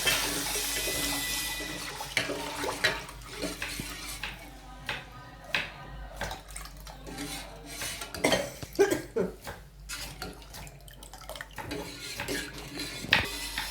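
Buttermilk pours into a pan of oil-fried ground paste for homemade taak kadhi, a noisy liquid rush at first, then settling into softer splashing with scattered clinks of a pot and utensil.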